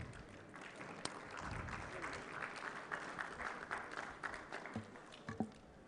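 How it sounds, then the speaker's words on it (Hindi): Audience applause at a formal agricultural governing-body session hosted by a ministry, welcoming a dignitary on stage; a steady, moderate wash of clapping from a large hall lasts throughout with a few sharper claps standing out. "उनका भी वेलकम आपकी तालियों के साथ"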